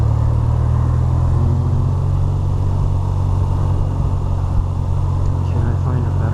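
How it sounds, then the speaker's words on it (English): Heavy highway traffic passing around a BMW R 12 nineT motorcycle on the move, a loud continuous low rumble of engines and wind that never lets up. "There is a lot of traffic."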